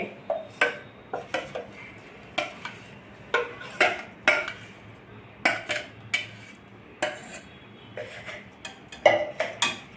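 Dates dropped into a bowl in a home kitchen, making a series of irregular sharp clinks and taps against the dish with short pauses between them, close and clear.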